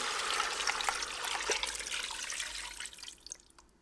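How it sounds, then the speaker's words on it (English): Two cups of water pour into a Ninja Foodi pot, a steady, close splashing rush that thins and tapers off over a few seconds. "So we'll start with 2 cups of water."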